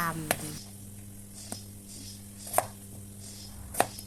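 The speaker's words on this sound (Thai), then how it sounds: "เสร็จแล้วนำมาหั่นเป็นชิ้นพอดีค" A knife chops potatoes on a cutting board: four sharp, separate thunks spaced about a second apart, close by, over a faint steady hum.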